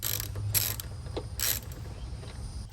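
Ratchet clicks and mechanical creaks come from loosening 13mm bolts on a BMW B58 engine, a few short bursts of ratcheting over a low steady hum, close and fairly quiet.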